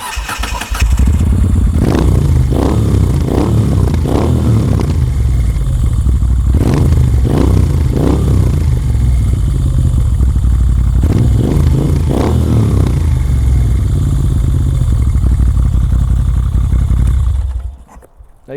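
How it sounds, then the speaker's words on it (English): A 2016 Moto Guzzi V7 motorcycle engine idles loudly up close with its exhaust, then blips through a series of sharp revs before settling back to a throbbing idle and cutting off at the end. "it comes down to the exhaust and the engine noise"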